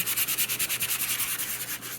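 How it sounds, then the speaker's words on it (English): Quick, rhythmic back-and-forth strokes of a sanding block rubbing abrasive paper along paper edges, close and fairly quiet, repeating evenly for a couple of seconds. "you just take any old sanding block that you have, and when you sand the edges"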